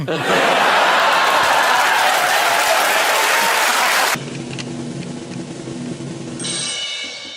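Loud studio audience applause with some laughter on a TV panel show fills the first four seconds, then cuts off abruptly to a quieter background.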